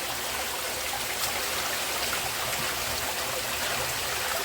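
Steady rushing water fills a cave, a constant hiss of water flowing down and trickling, with no voices.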